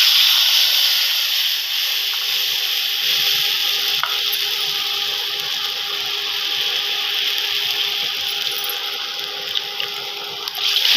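Yogurt, poppy seed paste and chilli paste land in a pan of fried parshe fish for a Bengali curry, giving a steady close hiss and sizzle with soft stirring scrapes and no talk.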